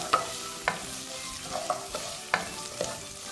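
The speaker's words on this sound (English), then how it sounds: "Now the ghee is hot. I'm going to add my chopped onions. Give it a little bit of stir" Chopped onions frying in hot ghee while being stirred, with several distinct scraping stirs over a low steady sizzle, close and fairly quiet, no talking.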